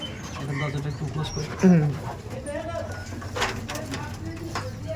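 Pigeons cooing in a loft, low throaty coos rising briefly near the middle while someone talks over them.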